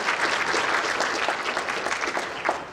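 A short burst of audience applause at an MLK Jr. Unity Breakfast, many hands clapping steadily at moderate volume throughout.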